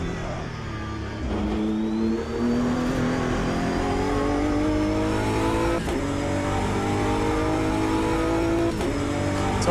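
A race car driving at Monza in the sim racing game Automobilista 2, its engine droning loudly and steadily with rising pitch sweeps as it accelerates and shifts through the gears, with no talk.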